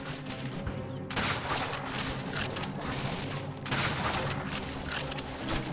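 Sustained machine gun fire rattles without pause across a Call of Duty: Finest Hour battle on the Eastern Front, loud and dense, with a brief dip in intensity before the barrage surges again.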